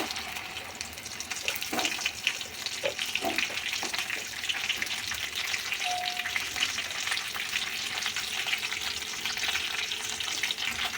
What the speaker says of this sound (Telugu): ఇది వేపుకునే సమయంలో ఓన్లీ సిమ్లో పెట్టి వేపుకోండి